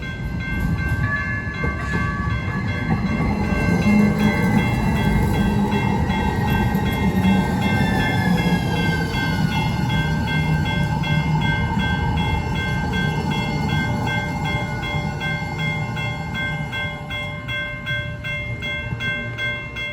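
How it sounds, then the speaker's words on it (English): Lynx light rail trains rolling into a Carolinas station, a continuous loud rumble of wheels and rail noise with ringing tonal squeals and a horn-like tone, close by and without voices. "two more Lynx trains came into view"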